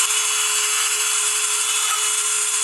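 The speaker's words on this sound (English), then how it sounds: "pick up your Dremel with a little cutting tool. You can go in here and kind of get the rest of those little oil deposits" A Dremel rotary tool with a small cutting bit grinds oil deposits off a cylinder head, a close, loud, continuous high-pitched whine with a steady tone throughout.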